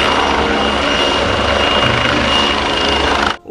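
A red toy fire-fighting helicopter with its rotor spinning gives a steady, loud mechanical whir that runs unbroken for about three seconds and then cuts off abruptly.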